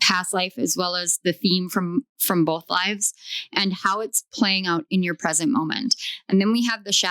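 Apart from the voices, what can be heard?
No everyday noises stand out.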